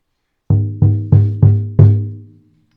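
A deep temple drum in a Chod meditation sounds five resonant, evenly spaced strikes, each booming close and loud before ringing out, the last decaying longest into silence.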